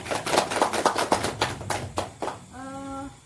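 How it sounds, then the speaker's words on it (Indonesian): A group at a guidance session claps hands in a quick, fairly regular run of claps, then the clapping stops and a voice briefly speaks. "Oke, tepuk tangan dulu"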